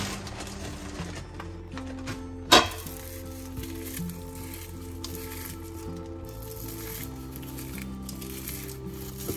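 Ghee sizzling in a pan with fried onions (beresta), a steady hiss and crackle throughout, broken once by a single sharp clatter.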